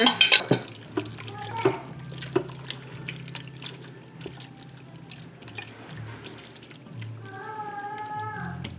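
Spoon stirring a beef broth and bouillon mixture in a pot for Philly cheesesteak, soft liquid sloshing and scraping with a few clinks at the start, fairly close and moderate in level.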